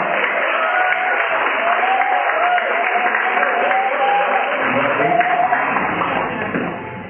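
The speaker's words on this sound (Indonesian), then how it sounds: "baik kita sambut dengan tepuk tangan yang paling meriah" Conference audience applauding a speaker being welcomed onstage, a thick continuous roar of clapping with crowd noise and voices mixed in, steady throughout and tapering slightly at the close.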